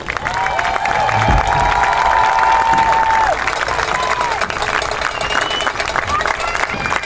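A large crowd at a high school football game between Metamora and Sterling cheers and claps loudly for senior players, with a sustained roar of voices and a few rising whistles or shouts over the applause.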